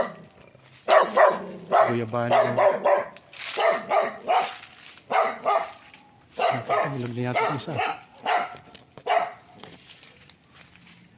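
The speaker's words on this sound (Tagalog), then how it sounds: "Aso ng kapitbahay mga kapraps." A dog barks repeatedly and aggressively in bursts, fairly close, while someone talks over and between the barks.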